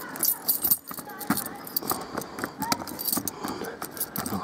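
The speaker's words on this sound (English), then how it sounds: "Right, keys." Keys jangle and clink near the locker of a 1995 Abbey 416 Vogue GTS four-berth touring caravan as it is unlocked. There are short, irregular metallic rattles, close and fairly quiet, and a voice is heard now and then.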